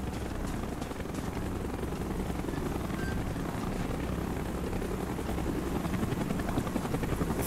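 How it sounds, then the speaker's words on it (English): Helicopters in Call of Duty: Black Ops fly overhead with a steady, loud rotor thrum and engine roar that fills the whole stretch without a break and with no talk. "There are helicopters all over the place."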